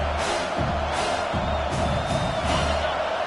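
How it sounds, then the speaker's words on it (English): Stadium crowd in NCAA 25 roaring for the defense on third down, a steady broad swell of cheering with rhythmic low thumps pulsing underneath throughout. "Decibels rising as the crowd gets behind this defense on 3rd down."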